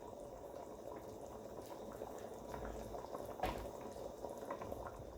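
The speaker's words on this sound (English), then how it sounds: "In this pot here, I'm boiling rice for the soup" Rice boiling in a pot of water for soup, a steady low bubbling and simmering that continues evenly throughout with one brief louder pop near the middle, no talking.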